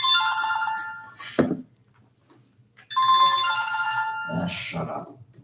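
A mobile phone ringtone plays loudly and close in a bright, repeating melodic tone, stops for about a second, then rings again; brief talk is heard between the rings.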